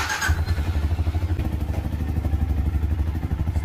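A Benelli big bike engine running at a dealership, a loud, steady low throb with a rapid pulsing beat and a brief burst at the very start, heard alone without talk.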